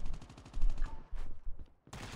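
Gunfire in PUBG on PC, a few rapid bursts of shots in the first second or so, followed by quieter game sounds and a louder blast near the end.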